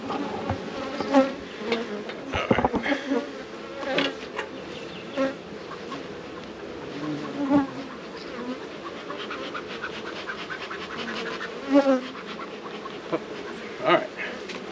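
Honey bees drone steadily inside an opened hive during a nectar flow, a close, dense buzzing broken by occasional scrapes and knocks from handling the frames.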